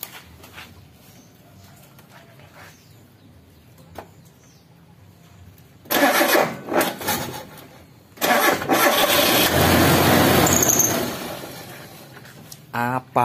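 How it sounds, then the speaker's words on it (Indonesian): A Mitsubishi Kuda petrol engine, just overhauled, cranks and catches after a quiet lead-in, then revs and runs loudly at close range, briefly dropping off before roaring again. Faint voices sit in the background. "Coba kita start engine-nya."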